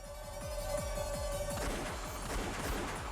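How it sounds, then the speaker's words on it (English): Rapid bursts of video game gunfire rattle in a steady, repeating rhythm, dense and continuous over a noisy backdrop. "They heard gunfire from down the hallway."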